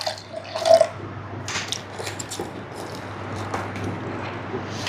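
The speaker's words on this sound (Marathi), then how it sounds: "या जारमध्ये थोडंसं पाणी टाकून घेऊयात आणि व्यवस्थित असं विसळून" Water is poured into a blender jar and swirled to rinse it while making an almond milkshake, with soft trickling and dripping against a steady low hum, one brief louder splash near the start.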